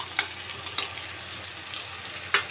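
Fish frying in a pan with garlic and ginger, a constant close sizzle broken by three sharp spatula scrapes against the pan.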